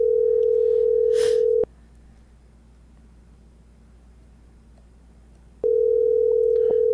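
Telephone ringback tone on an outgoing podcast call, a steady loud tone sounding, falling silent for about four seconds, then returning in a repeating ring cadence with no voices.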